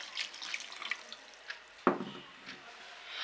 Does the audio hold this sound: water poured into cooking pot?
yes